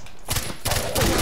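Rapid automatic gunfire from a weapon in the video game Far Cry 4, loud close bursts in two or three tight clusters with brief gaps between them.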